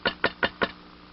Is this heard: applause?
no